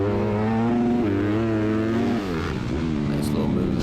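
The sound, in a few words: Honda CRF150R dirt bike engine on motocross track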